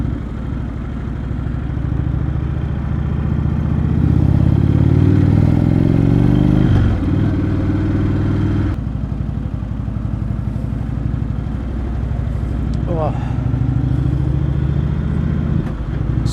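A motorcycle rides along a country road in the UK, its engine running steadily and loud with close, rumbling tone and constant wind buffeting, with a brief shift in pitch midway.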